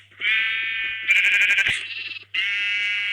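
Sheep bleat loudly and continuously in a Minecraft-style crafting game, several overlapping calls with a brief break before another long bleat.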